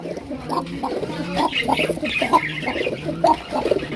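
Pairs of raj pigeons at a bird market cooing close by, overlapping throaty calls and soft clucks in quick repeated bursts, fairly loud with no talk over them.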